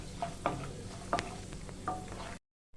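Cashews frying gently in oil over low heat for chirer pulao, a steady soft sizzle broken by a few brief stirring scrapes, close and moderate in level, ending in abrupt silence.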